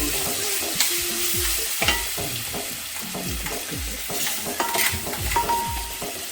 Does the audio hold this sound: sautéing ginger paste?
yes